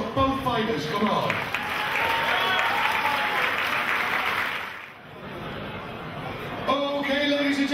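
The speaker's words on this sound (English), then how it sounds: "Round of applause for both fighters." A boxing crowd at a UK fight night applauds both fighters after a three-round bout, steady loud clapping and cheering that dips briefly midway, with an announcer's voice at the start and end.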